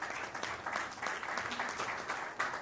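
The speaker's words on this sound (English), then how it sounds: "Please, a round of applause." Audience applause at an evening foundation launch event, a steady, moderately distant round of clapping from a seated crowd, continuous throughout without talk.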